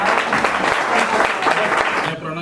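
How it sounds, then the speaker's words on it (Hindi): Loud audience applause for a student at a mobile repair training review, dense continuous clapping close by that cuts off abruptly near the end. "जोरदार तालियां भाई।"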